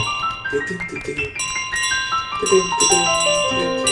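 Bright, chiming cathedral bell tones ring out in overlapping layers over a busy Untitled Goose Game soundscape, with several distinct strikes and sustained tones.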